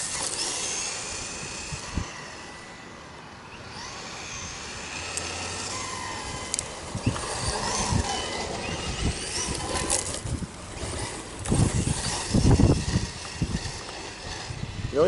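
Stock Kyosho Mad Bug 1/10 RC car running on a Hobby King Zippy 2S battery over asphalt, with a whirring electric motor that rises and falls as it passes near and away, and some scuffing bursts.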